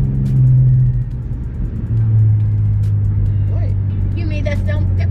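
A car runs close behind on the road with a steady low engine drone and rumble, fairly loud, while voices talk over it near the end.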